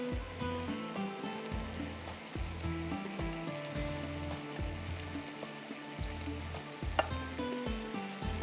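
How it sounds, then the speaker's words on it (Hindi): Marinated fish pieces coated in cornflour frying in hot oil in an open pan, a steady soft sizzle and crackle running throughout at moderate level, with no voices. "जो फ़िश को हमने फ्राई करना है। एक एक पीस को आपने अच्छी तरह से पहले मैरिनेट करना है। इसको हम फ्राई करेंगे।"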